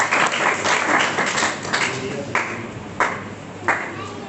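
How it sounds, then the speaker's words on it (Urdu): A church congregation at a Pentecost service claps loudly in a reverberant hall, a dense run of applause with a few sharp accents that slowly thins out as it goes on. "میں چاہتا ہوں کہ آپ اپنے لیے زوردار تالی بجائیں."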